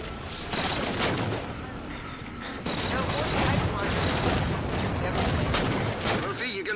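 Dense, continuous gunfire and flak bursts in Halo 4 Spartan Ops, loud and sustained with overlapping shots and explosions, a brief dip midway before the barrage resumes.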